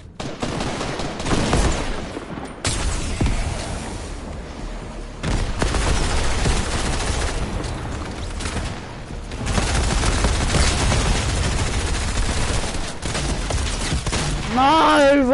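SMG and other gunfire in Fortnite play comes in bursts of rapid crackling shots, with loud volleys that start and stop abruptly, mixed with game effects and a person talking.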